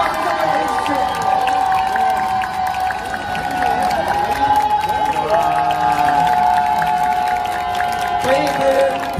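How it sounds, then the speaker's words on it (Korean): Crowd at an outdoor rally welcoming released student protesters cheers and applauds continuously, a dense, loud wall of shouts and clapping with voices mixed in throughout. "모두 무대로 나오실 때까지 끊임없이 박수와 함성을 보내주십시오"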